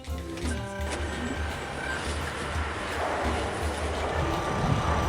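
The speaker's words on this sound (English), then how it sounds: "That was a snowplow clearing the snow off the road" A snowplow clears snow off a winter road, a rumbling mechanical roar with some tonal whine early on, growing into a broad steady scraping noise that builds toward the end, heard without talking.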